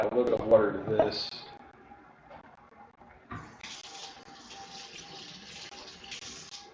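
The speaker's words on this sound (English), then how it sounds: "Add a little bit of water to this." Tap water runs steadily into a cooking pot of diluted stock for a meatball stew, a continuous splashing hiss that starts partway through after a brief voice at the start.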